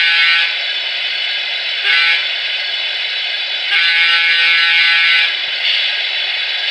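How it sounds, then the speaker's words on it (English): A Broadway Limited PRR Baldwin Centipede model locomotive sounds its crossing horn from a small speaker: a harsh, buzzy, electronic horn blast in long and short pulses with brief gaps, loud and close. "F13 is a crossing horn."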